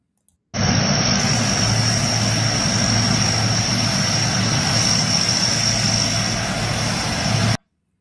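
An aircraft engine roars loudly and steadily nearby, a continuous propeller drone with a high whine starting abruptly and holding for about seven seconds before cutting off.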